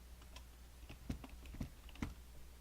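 Computer keyboard typing, a few faint scattered keystrokes clicking quietly in short irregular bursts against a low background hum.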